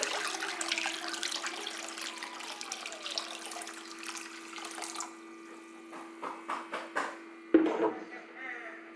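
Water splashes and trickles into a container holding Mexican terracotta clay dishes for several seconds, followed by a few separate knocks and splashes.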